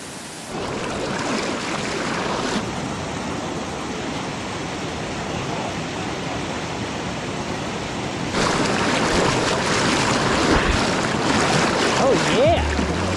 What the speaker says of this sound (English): We got stuck crossing a flooded river.